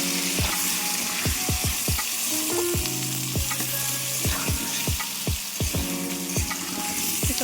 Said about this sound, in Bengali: এটাও আমি লাল লাল করে এখন ভেজে নেব